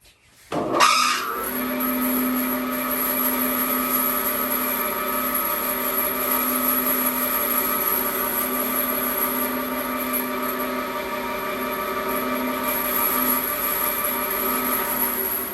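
A Harvey Ambassador C14 bandsaw starts up after setup with a sharp switch-on, then settles into a steady, loud, close whirring hum with a strong constant whine that holds evenly for the rest of the run, no talking.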